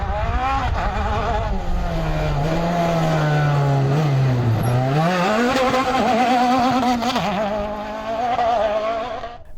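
A Fouquet Honda rally car at a French off-road rally championship round, its engine snarling loudly and close, dipping and climbing through rev changes with a brief lift before accelerating hard again.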